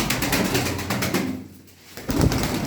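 Pigeons coo in a loft, among them a blue-speckled male and a grey-speckled female, a steady close murmur of soft calls that thins briefly before swelling again.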